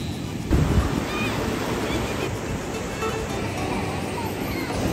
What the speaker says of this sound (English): the waves were a little bit crazy, a little bit violent, but really good